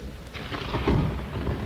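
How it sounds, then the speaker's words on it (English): Thunder rolling nearby as a low, broad rumble that swells toward the middle and lingers steadily, with no voices over it. "Thunder rumbled close by."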